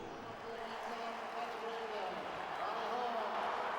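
A stadium crowd applauds and roars as Scotland take the field for a rugby sevens semi-final in Edinburgh, a continuous distant wash of cheering with a commentator's voice over it.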